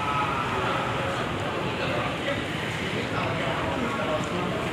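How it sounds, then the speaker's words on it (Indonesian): An airport skytrain approaches a station platform at Soekarno-Hatta airport, a steady loud rumble and rail roar filling the space continuously and close by. "Terus siap-siap keretanya udah mau sampai."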